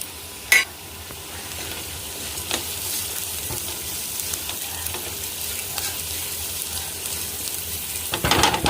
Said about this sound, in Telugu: ఉల్లిపాయ ముక్కలు మంచిగా మగ్గిపోయినాయి నెయ్యిలో.